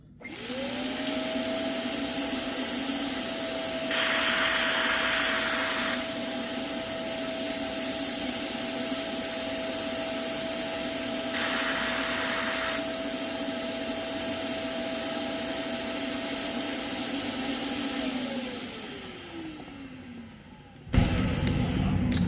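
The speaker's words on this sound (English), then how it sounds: "All right, so I'm gonna turn this on and see how it works." A Hoover CleanSlate carpet cleaner runs steadily for about twenty seconds with a loud motor whine and suction hiss, spraying bursts adding brief surges, then winds down and cuts off.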